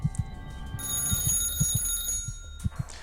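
A phone rings in the video game Calm Down, Stalin with a steady electronic trill, its repeated ringing bursts clear and loud with no voices over it.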